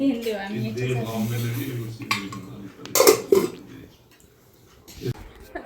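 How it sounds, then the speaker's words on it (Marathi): Dishes and utensils being scrubbed and knocked together at a home sink, with loud clinks and clatter bursts midway, accompanied by a voice. "चला आता मी चष्मा घालूनच भांडी घासणार"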